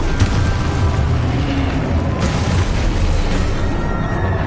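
Spell blasts go off in the Hogwarts Legacy video game, a loud dense roar of booms and crackling bursts with sharper impacts near the start and midway.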